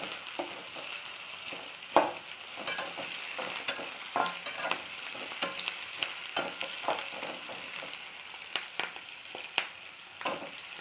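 Onions sizzling in a frying pan for batati rasa, a quiet, steady hiss broken by repeated scraping clicks of a spoon stirring them, with no talking.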